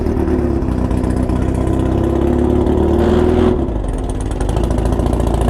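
A motorcycle engine at the Bonneville speed trials drones loudly and steadily, ridden slowly without being warmed up, with a brief rise in revs before easing back to a constant throaty hum.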